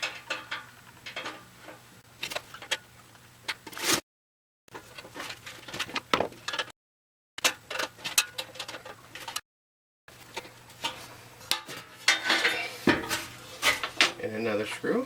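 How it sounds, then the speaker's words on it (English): A small wrench tightens a screw on an RV furnace blower motor, with light metallic clinks and ratcheting taps. The sound comes in short bursts broken by gaps, with some clatter nearby. "that's where we need the little wrench"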